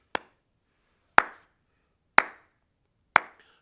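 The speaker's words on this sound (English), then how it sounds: "When I clap my hands like this" Four sharp, evenly spaced hand claps, roughly one per second, loud and close in a quiet room during a home music lesson game, each with a short decay.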